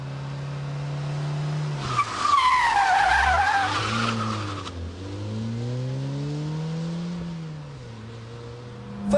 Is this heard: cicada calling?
no